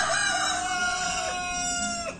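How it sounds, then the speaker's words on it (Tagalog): A rooster crows loudly and close on a community farm, one long drawn-out call with a rising start and a tapering end, over faint background cackling from other chickens. "Meron sila ring manok"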